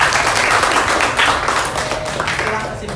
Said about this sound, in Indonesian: tepuk tangan untuk Karen.